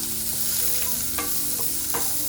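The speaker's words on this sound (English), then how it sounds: "So saute your onion for about 1 minute." Chopped onion sautés in a couple of teaspoons of oil, a steady hiss of frying under a few sharp scrapes of a utensil stirring the pan. Close and continuous, with no talking.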